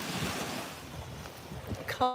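Ocean waves wash and churn at the water's edge of a beach at Wiggins Pass, a steady soft rush with wind buffeting the microphone, no voices present.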